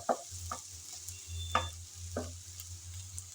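Garlic and amra chutney frying in a pan, with a few distinct scraping stirs of a spoon over a faint, steady sizzle, close and quiet, with no talking.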